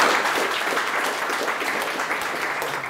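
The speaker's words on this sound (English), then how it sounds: "And applause for the comment" Short burst of applause from a small meetup crowd in an office, steady clapping throughout without talk.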